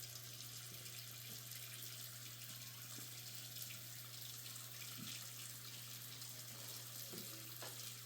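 A kitchen tap runs steadily as beef ribs are rinsed under the stream, a continuous near hiss of water with no talking.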